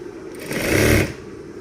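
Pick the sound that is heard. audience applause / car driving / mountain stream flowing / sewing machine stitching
sewing machine stitching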